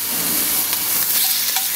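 Squid pan-searing in a smoking hot frying pan, a steady, close, dense sizzle with faint stirring scrapes, heard alone with no talk.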